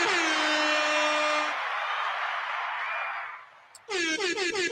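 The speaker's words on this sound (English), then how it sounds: "Shout out and give some hand claps and some air horns for Sha'Carri Richardson, y'all." Stacked air horn blasts, a long loud sustained honk fading out, then a rapid burst of repeated short horn toots near the end, standing alone with no talk.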